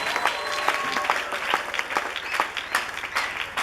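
A church congregation claps through the whole stretch, the hand claps dense and lively, with a few faint voices mixed into the applause.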